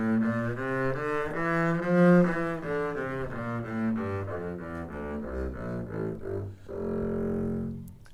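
Double bass bowing a slow major scale in half position, one sustained note after another stepping upward, played alone and close with a clear resonant tone.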